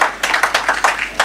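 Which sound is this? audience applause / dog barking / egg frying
audience applause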